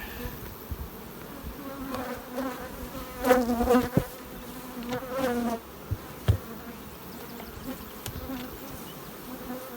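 Honey bees buzz around a hive colony in a beekeeping yard, a steady close drone that swells and wavers in the middle before settling back to a softer hum.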